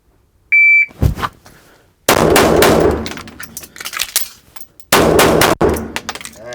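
A Smith & Wesson Bodyguard 2.0 .380 pistol fires a string of three sharp, loud shots spaced a few seconds apart, each with a ringing outdoor-range tail, after a brief electronic start beep.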